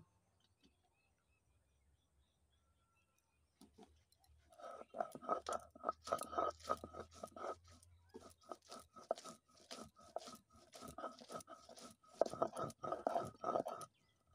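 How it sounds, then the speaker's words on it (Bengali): Ripe red chillies being ground into a paste, a steady run of rough, rhythmic scraping and crunching strokes that starts after a few quiet seconds and continues close by. "তো এবার আমি পাকা লঙ্কা বেটে নেব।"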